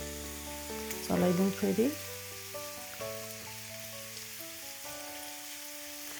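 Garlic and ginger paste sizzles in a pan as a soft, steady hiss beneath tonal background music, with a brief spoken line partway through.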